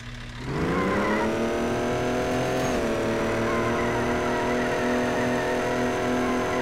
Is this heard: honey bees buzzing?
no